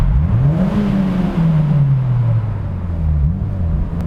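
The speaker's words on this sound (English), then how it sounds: "Gotta rev it in the tunnel." A 2008 Mazda Miata engine revs inside a tunnel, its pitch climbing, holding, then sliding down before a second rise. The engine is loud and close, with a reverberant rumble and no voices.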